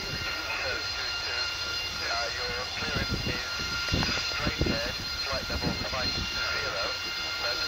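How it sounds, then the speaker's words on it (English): A Messerschmitt Me 262 jet flying a display at RIAT 2023, its engine a steady loud roar with a rising whine and shifting rumble throughout, while an announcer talks over it. "The Messerschmitt Me-262"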